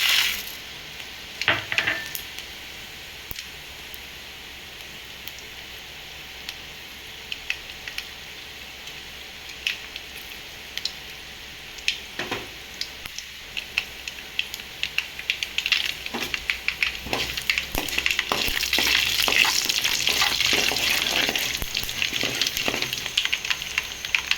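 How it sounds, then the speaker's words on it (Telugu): Tempering seeds hitting hot oil, starting with sparse pops and clicks that build into a denser, louder crackling sizzle toward the end, close and alone. "ఆయిల్ అయితే వేడెక్కింది. పోపు గింజలు వేసేస్తాం."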